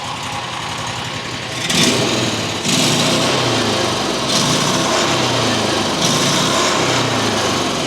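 A John Deere XUV utility vehicle engine idles roughly, then revs up in several loud, close bursts that rise and fall over a steady running drone.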